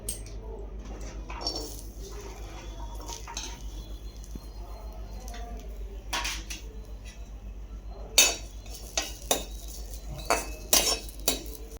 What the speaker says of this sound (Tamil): இப்போ தேங்காயை லேசாக வறுத்துக்கலாம்